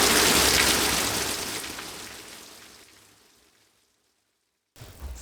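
Steady broadband rain hiss at a mobile home under roof repair, loud at first and gradually fading to near silence, then a brief burst of rain returns at the end.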